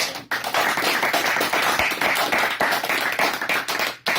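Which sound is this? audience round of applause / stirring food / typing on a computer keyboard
audience round of applause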